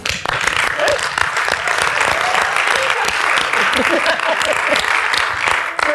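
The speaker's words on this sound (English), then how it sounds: "You didn't ask anybody over there that were clapping in the other room." A roomful of people applauding in another room, dense continuous clapping that holds steady at moderate volume throughout, with faint voices mixed in.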